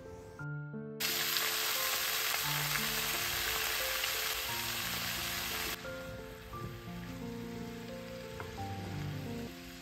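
Mixed vegetables and sweet potato pieces frying with panch phoron spices in oil in a kadai, a loud, steady sizzle that starts abruptly and carries on with faint music behind.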